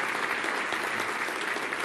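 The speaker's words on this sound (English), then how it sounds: "Let's give her one more round of applause" Audience applause for a CEO after her conference leadership talk, a dense, steady wash of many hands clapping at close range that holds evenly throughout.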